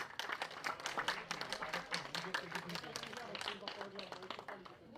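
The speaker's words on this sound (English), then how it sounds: "one more round of applause" A crowd at a kart racing event claps in a brief burst of scattered applause, quick overlapping hand claps at moderate distance, with voices mixed in.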